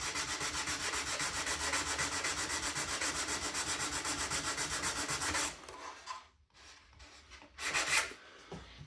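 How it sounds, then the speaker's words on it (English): Nail files sand the tail of a model airplane (a Fokker) in fast, even back-and-forth strokes, steady and close for several seconds, then a pause followed by a few separate rubs. "nail files, give this a sand."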